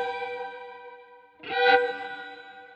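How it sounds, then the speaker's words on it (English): An electric violin through a Line 6 Helix sustains a bright, effect-laden tone with stereo vibrato after reverb, then a short bowed accent swells and blooms into a wash. "put a stereo vibrato effect after a reverb signal"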